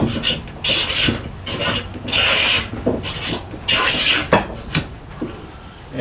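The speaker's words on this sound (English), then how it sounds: "those first couple passes now with the jointer plane are just hitting a few spots, but each successive pass will take a longer shaving." A jointer plane shaving wood for stool parts, making repeated rasping strokes. Each pass is a close, loud swish lasting about a second, with brief pauses between passes.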